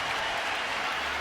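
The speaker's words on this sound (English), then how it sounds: "it is met by a huge cheer from the London crowd" A huge cheer from a London crowd at a five-round fight, a dense, steady roar of cheering and applause holding loud and unbroken throughout, with no clear voices standing out.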